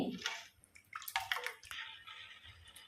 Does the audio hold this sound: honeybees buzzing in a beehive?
no